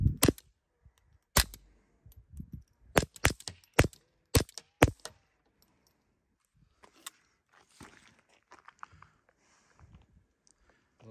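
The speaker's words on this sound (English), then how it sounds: "shoot a couple out into the hill just so you can hear" Several suppressed .22lr gunshots fired through a Nelson Precision Little Spoon silencer outdoors into a hill and open space, sharp cracks in an irregular burst of about eight to ten shots, then quieter handling noises and faint movement.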